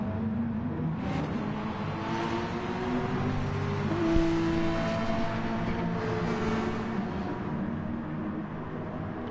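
Racing car engines in Gran Turismo Sport, a pack of cars in a manufacturers series race with a Mazda nearby, droning and whining steadily as the engines hold high revs, with a brief louder swell midway.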